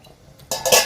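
The lid comes off a pot of sardine and tapioca curry with a brief metallic clatter and clink after a moment of near quiet.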